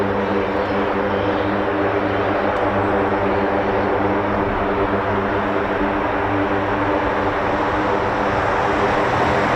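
A Lockheed C-130 military transport aircraft flying past an RAF air base, a loud, steady, close propeller drone with layered engine hum that fills the whole stretch without talk.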